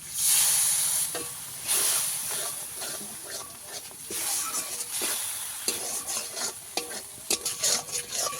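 Spice paste with poppy seed and nut-paste water frying in a pan for a vegetarian broccoli dish, with a loud bubbling sizzle and hiss and repeated scraping stir strokes that turn into irregular clatter near the end; no speech.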